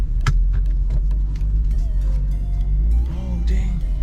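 An Infiniti G35 sedan being driven, its steady low engine and road rumble running throughout at close range, with a few brief knocks and squeaks over it and people talking now and then.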